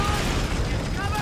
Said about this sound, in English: You can't use these freaking grenades because they all come so close